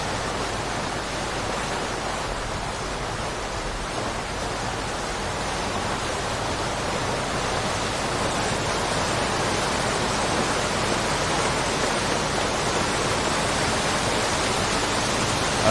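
Broad, steady roar of a waterfall's rushing water in the Hushed River Valley of The Long Dark survival game, constant and loud for the whole stretch with no voices.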